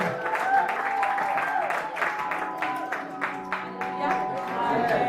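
A church congregation claps steadily while voices rise over it, singing and calling out in praise, giving a continuous, lively crowd sound.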